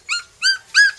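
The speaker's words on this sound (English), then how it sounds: "7 little dogs" Small dogs, part of a litter of seven little dogs at a house in San Juan, Batangas, let out three high, tonal whimpering yelps, evenly spaced and close by, with no voices.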